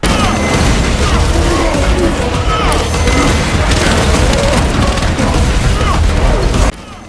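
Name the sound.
Hydra rocket attack explosions in Space Marine 2 video game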